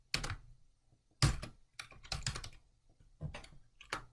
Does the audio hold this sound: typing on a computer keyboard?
yes